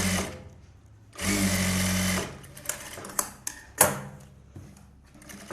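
A sewing machine runs one sustained burst while edge-stitching the lining of an Aari work blouse. A few sharp clicks and taps of handling follow in an otherwise quiet room.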